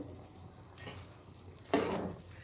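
Soaked rice being mixed into mutton biryani in a pot makes a soft, close scraping and stirring sound, with a sudden louder scrape near the end.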